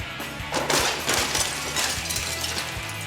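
Breakaway glass props on a film set shatter and crash in several quick, loud smashes, with tinkling fragments between the impacts.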